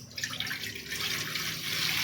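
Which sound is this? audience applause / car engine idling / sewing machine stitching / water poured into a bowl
water poured into a bowl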